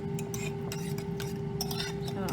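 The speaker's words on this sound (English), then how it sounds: "going to grab your greens and your ham and whisk that in there as well" Greens and ham being whisked into a keto egg mixture in a bowl, steady clinks and scraping of utensil on dish, with a faint background hum throughout.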